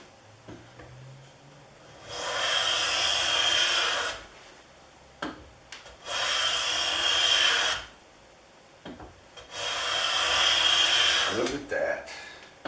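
Old collector-quality type A5 hand plane taking long shavings from a 1 5/8 inch poplar board held in a vise: three close, rushing two-second strokes separated by short pauses with light knocks.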